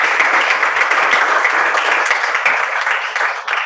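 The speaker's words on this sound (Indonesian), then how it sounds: "Tepuk tangan dulu, bagus ya." Steady applause from a classroom of students, dense and fairly loud, with a few sharper claps standing out, continuing evenly for a few seconds without pause.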